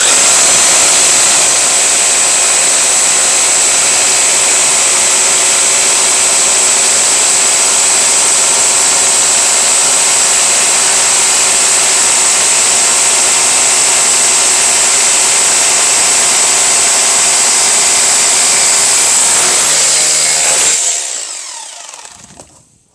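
A Bosch rotary hammer drills continuously in a comparison test of cordless and corded models. The harsh, high whine is loud and unbroken for about twenty seconds, then cuts off abruptly.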